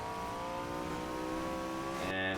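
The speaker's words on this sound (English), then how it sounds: "It's kind of a droney engine sound." A Porsche 918 Spyder in the racing game Need for Speed Heat drones steadily as it accelerates, a smooth tonal engine note rising slightly before a brief shift near the end, moderately loud with no talk.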